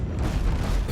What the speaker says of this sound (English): it's just straight out cannon warfare right now